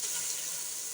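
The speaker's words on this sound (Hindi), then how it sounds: "थोड़ा सा पानी हम शामिल करेंगे ऐसे" A little water splashes into a hot pan of cooking momos, a brief hissing, sizzling wash of sound at close range.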